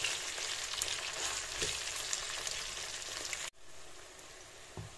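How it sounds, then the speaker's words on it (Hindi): Onions frying in a pan for beef paya, cooked to a light golden brown, give a steady close sizzle and crackle that runs without a break, with a short gap and a soft stir or clink near the end. "प्याजों को हम गोल्डन ब्राउन होने तक, हल्का गोल्डन ब्राउन करना है, बहुत डार्क कलर नहीं देना, इनको भूनते हैं"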